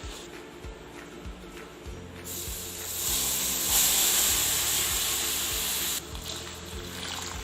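Milk poured into gram flour (besan) roasting in a pan for halwa, giving a loud steady hiss that rises sharply and holds for several seconds over faint background thumps.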